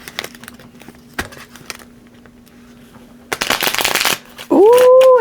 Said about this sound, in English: can I shuffle it like this?